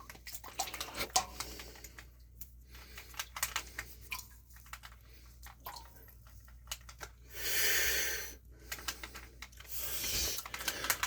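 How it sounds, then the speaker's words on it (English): Water splashes and runs over dirt being washed during gold prospecting outdoors, faint and intermittent, with a louder rushing burst partway through and scattered clicks and knocks around it. "let's wash some dirt down."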